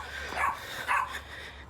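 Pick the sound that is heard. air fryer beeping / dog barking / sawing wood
dog barking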